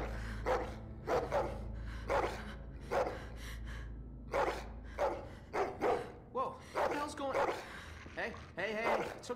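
A dog barks repeatedly in The Walking Dead: The Final Season video game, a run of sharp, loud woofs at uneven intervals with a few yips, over a low rumbling background and some breathy vocal sounds.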